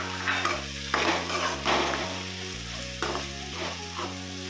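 Tomato pieces and green chillies fry in a pan for a dried-fish and cucumber curry, giving a steady close sizzle with stirring scrapes over a constant low musical bed, no talk.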